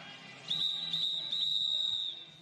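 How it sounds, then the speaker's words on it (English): A referee's half-time whistle at a flag football game gives one long, steady, shrill blast lasting nearly two seconds over faint ambient noise. "That is the half-time whistle."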